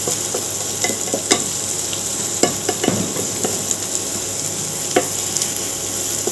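Crushed ginger and garlic fry in a pan over a low flame, with a steady soft sizzle and occasional stirring clicks and scrapes, close and continuous with no talking.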